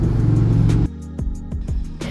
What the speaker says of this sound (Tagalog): Then, papainitin natin yung makina niya. For 3 minutes to 5 minutes.